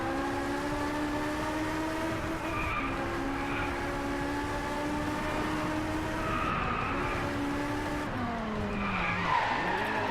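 Car drifting in the racing video game Driveclub on a Japan track, with a sustained tire squeal and skid over a steady engine drone that rises and falls, loud and continuous without talk.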